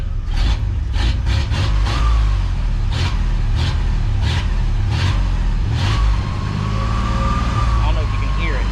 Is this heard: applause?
no